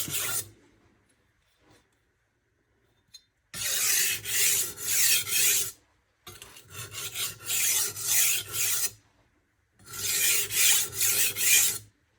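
A knife is sharpened on a Norton Crystolon double-sided oilstone: four bursts of rapid, close-up rasping strokes, separated by short silent pauses, with no talking.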